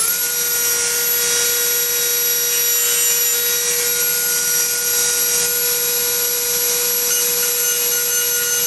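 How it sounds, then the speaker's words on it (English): Steady, loud high-pitched grinding as a rotary tool cuts a lip out of the bore of a modified Motobecane moped engine cylinder fitted with an Airsal 74cc kit, running continuously with a constant whine and no talk. "So I've got to grind out that lip as well."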